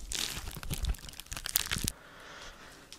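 Crunchy slime in red, green and pink being squished and mixed by hand, giving a dense stretch of close crackling and crunching pops that fades to a quieter rustle near the end.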